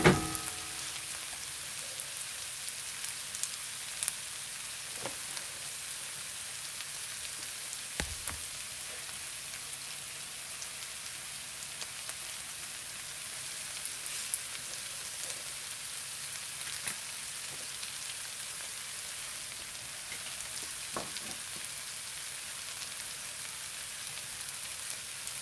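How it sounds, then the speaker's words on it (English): Garlic frying in a pan alongside translucent onions for a mushroom gravy gives a steady, faint hiss and crackle that runs throughout with no talk. "Let's get a little bit of heat on that garlic."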